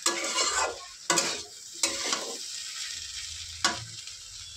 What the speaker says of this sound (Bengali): এখানে কিন্তু আমি জল দিয়ে দিয়েছি, দিয়ে ভালো করে নেড়ে নিয়েছি